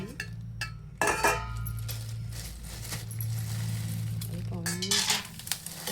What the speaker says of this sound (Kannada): ಎಣ್ಣೆ ಕರಿದು ಶೇಂಗಾ ಹಾಕ್ತೀನಿ